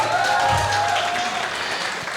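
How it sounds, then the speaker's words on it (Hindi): Applause from a film success party crowd celebrating a hit Hindi movie, a steady dense wash of clapping throughout with a faint tone over it. "इसलिए जोरदार ताली होनी चाहिए।"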